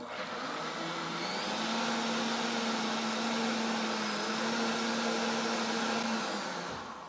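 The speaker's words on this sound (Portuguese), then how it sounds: "Agora eu vou tampar o meu liquidificador. Eu vou deixar bater uns 5 minutinhos" Blender mixing condensed milk pudding batter, a loud continuous motor whir with a steady hum and whine, running evenly for several seconds before winding down at the end.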